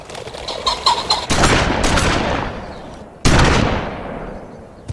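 A shotgun fired at a bird goes off outdoors with a loud blast and long decaying roar, after rapid rustling. A second close, sharp report follows a second later and fades away.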